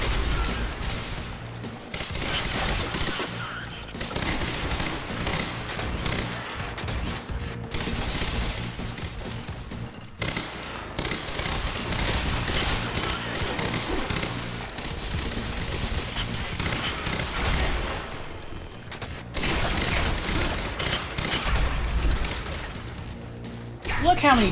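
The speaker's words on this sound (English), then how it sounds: "Actually, do with the machine gun instead." Sustained machine gun fire from the video game Quantum Break rattles in loud, dense bursts with brief breaks, mixed with game effects and someone talking over the shooting.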